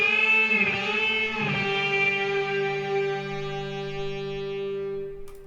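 Two recorded guitar slides layered together in a pop ballad arrangement, the opening pair of gliding swoops giving way to long sustained ringing tones that hold steadily before a faint click at the end; no drums or voices.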